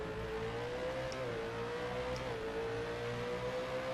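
A V8 Supercar engine in the rFactor 2 racing sim drones steadily under load, a continuous close engine tone with small pitch dips at shifts or lifts, alone without talk.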